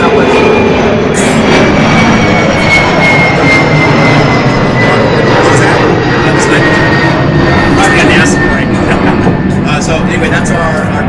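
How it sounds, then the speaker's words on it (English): A plane passing overhead outside Black's Bar fills the air with a loud, steady roar that stays constant throughout, while people talk beneath the drone. "the iconic Bixby pause when planes fly over"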